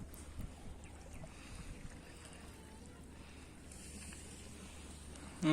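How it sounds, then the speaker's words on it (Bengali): A country boat is rowed on a village river at Eklaspur. Soft, low water and wind noise run steadily and faintly, ending with a brief louder bump. "হৃদয় এখন নৌকা চালাচ্ছে।"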